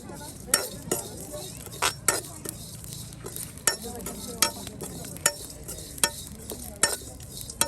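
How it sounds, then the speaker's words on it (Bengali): Garam masala spices dry-fry in a pan, a spatula scraping and clinking against the metal in a steady series of sharp strokes over a low, continuous sizzle, close by. "এই যে এখন কিন্তু আপনার গরম মশলাগুলো একদম ভেজে নিয়ে ঠেসে নেওয়া হবে।"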